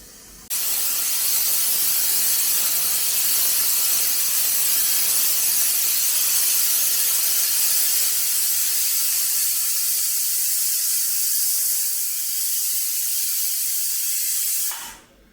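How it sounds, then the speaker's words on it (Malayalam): A pressure cooker cooking khichdi vents steam in one continuous loud hiss that starts abruptly, holds steady for about fourteen seconds and then cuts off, close and alone without talk. "ഇതിന്റെ അഞ്ച് വിസിലും വന്നിട്ടുണ്ട്"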